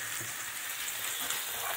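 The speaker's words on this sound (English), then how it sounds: "Saute that down and around." Garlic sautés in a pan for chicken alfredo with spinach, giving a steady, bright sizzling hiss with faint crackle throughout, close and continuous with no voices.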